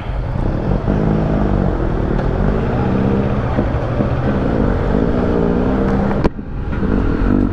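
A 2018 Kawasaki Versys 650 ABS Tourer motorcycle engine runs loud and close, a steady throbbing idle with slight rises in revs throughout, no talking.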